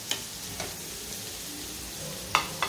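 Sliced onion fries in a pan for chicken keema cheese patties, giving a continuous soft sizzle broken by a few light clicks of a spoon against the pan.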